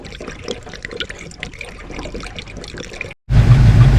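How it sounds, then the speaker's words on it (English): Antifreeze and Water Wetter pour into a car radiator during a recore job, a soft trickling and splashing of liquid that cuts off, then gives way to a loud, rushing, gurgling pour. "in between gallons of our antifreeze, I'm gonna go ahead and put the water wetter in"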